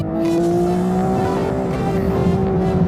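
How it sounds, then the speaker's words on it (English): A 2022 BMW M240i xDrive accelerates hard from 0 to 100 km/h, its exhaust a loud, steady engine drone whose pitch rises smoothly as revs climb, heard up close without talk. "That exhaust makes such a good noise."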